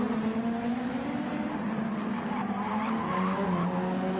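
A race car in a Super Formula racing video game at Laguna Seca skids into the barrier, its tyres giving a long steady squeal over a droning engine, loud and close, with no talking.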